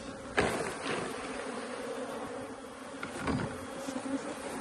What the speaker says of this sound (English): So these are the nursing bees, the one that was just born.